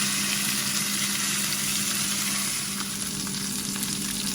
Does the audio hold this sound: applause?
no